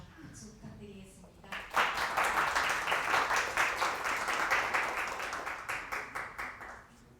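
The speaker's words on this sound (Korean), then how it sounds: "박수 부탁드리겠습니다." After a brief murmur of voices, an audience at a design seminar bursts into clapping that swells quickly, holds steady with distinct individual claps, then tapers off near the end.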